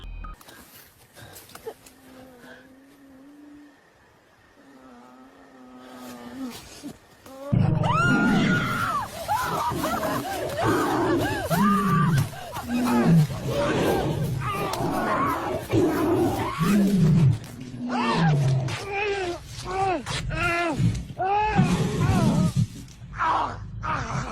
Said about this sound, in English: you hear a loud growl and screams from both the man and the woman, followed by the sound of an animal